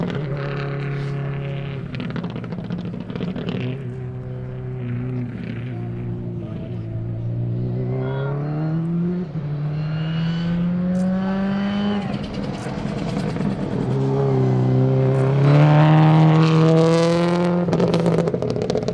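A rally car on the 2012 Olympus Rally Stage 5 super special climbs through its gears, the engine note rising and dropping with each shift and swelling loudest as it passes near, while a commentator talks over it.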